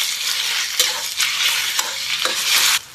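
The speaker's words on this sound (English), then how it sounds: "Now when the oil is getting hot, put the shredded pork fillet in." Shredded pork fillet sizzles and crackles steadily in hot oil in a wok, with several sharp scraping stirs of a spatula cutting through the frying noise, fairly close and loud, no voices.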